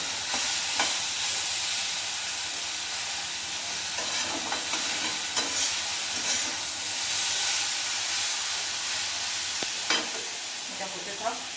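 Okra fries with a constant hissing sizzle in a pan for Punjabi bhindi chole masala, broken now and then by soft scrapes and clicks of occasional stirring, close up with no speech.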